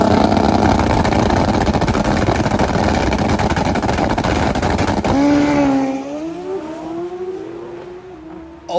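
Turbocharged Hayabusa drag motorcycles blast down the strip at full throttle, a loud, dense engine roar that fades into a falling whine as the bikes pull away into the distance.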